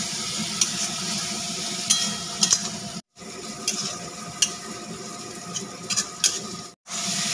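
Spices frying in a pan with ginger-garlic paste, tomato puree and cumin powder, a close steady sizzle broken by repeated scraping stirs of a spatula and two brief silent gaps.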